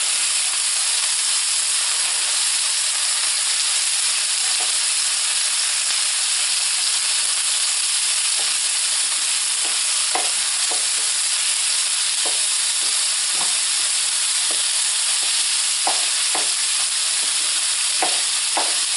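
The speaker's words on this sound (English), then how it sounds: "You want to continue to break up the pieces of ground beef" Ground beef sizzles steadily in a pan over a gas flame, with a constant frying hiss and scattered scrapes and taps as a utensil breaks up the meat, no voices.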